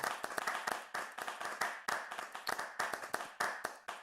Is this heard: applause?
yes